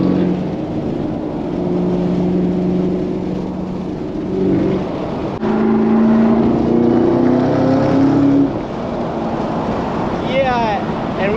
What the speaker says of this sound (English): that GTR's got full exhaust, turbo upgrades